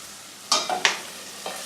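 Onions frying in a pan for chilli con carne, stirred in three quick scrapes over a soft background sizzle, close and without talk.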